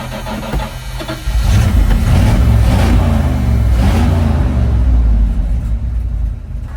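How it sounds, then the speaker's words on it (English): The engine of an abandoned 1980 Dodge Power Wagon W300 truck, refueled after sitting for years, runs with a deep, loud rumble that swells to a steady throbbing idle and a slight rev, with no voices. "Truck runs fine."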